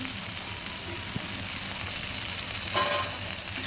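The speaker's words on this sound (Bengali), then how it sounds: "ভালোভাবে নেড়ে দিচ্ছি।" Hilsa fish head and taro curry being stirred in a pan, a steady low sizzle and simmer with soft scraping of the spoon running throughout, fairly close and without any talk.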